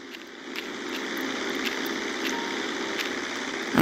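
A propeller airplane flying in GTA V, a steady droning engine hum held close and even throughout, with faint light ticks over it.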